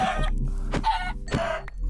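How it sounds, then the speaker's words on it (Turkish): Chickens in a lava-rising survival video game cluck in short, close bursts, a few quick calls in succession with no voices. "Bir de neden burada bu kadar fazla tavuk var?"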